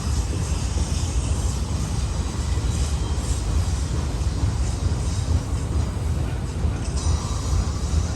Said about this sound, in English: Train's not picking up a whole lot of speed